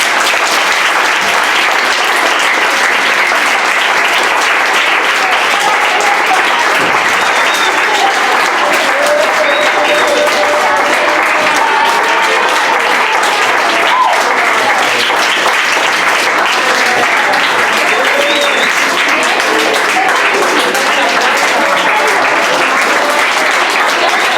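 Loud, sustained applause from a school audience after a children's performance at C.P. Martínez Valls in Ontinyent, a dense continuous clapping wash that fills the whole stretch with crowd murmur mixed in.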